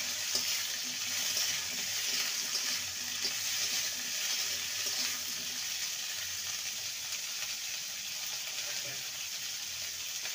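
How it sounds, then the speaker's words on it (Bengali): Cauliflower pieces frying in oil in a pan, giving a steady, bright hiss and sizzle that holds at an even level throughout. "ফুলকপিটাকে ভালো করে ভেজে নেব"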